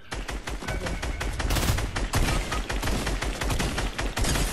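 Rapid automatic gunfire sprays in Fortnite, loud close bursts of fast repeated shots running almost the entire time with barely any pause.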